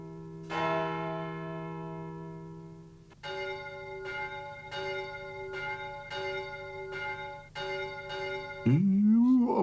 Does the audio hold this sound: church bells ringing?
yes